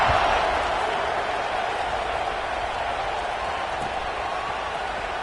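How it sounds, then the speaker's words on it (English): Football stadium crowd at a Baylor game buzzing after a score, a dense, steady roar of many voices that fills the space evenly and stays constant throughout. "this crowd is buzzing after that last score"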